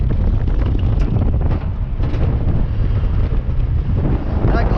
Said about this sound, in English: it's windy out here. Big time windy.